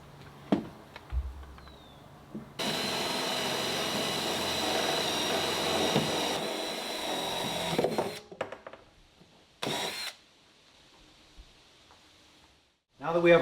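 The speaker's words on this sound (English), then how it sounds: "Now that we have our hole drilled" A power drill bores a hole for a bulkhead fitting, a steady loud whirring run of about five seconds followed by a few shorter bursts, with quieter handling clatter before and after.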